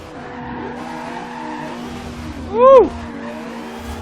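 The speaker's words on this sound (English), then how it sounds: "See how she drifts on the main roads." A Lamborghini drifting on a main road in Forza Horizon 2 lets out one loud rising-and-falling tire squeal that peaks near the end, carried over a steady engine drone, with a brief excited shout.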